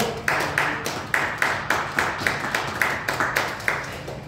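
A church congregation claps in congratulation during a service, giving a rhythmic, evenly spaced series of about a dozen loud unison claps with a slight echo, with no talk over it.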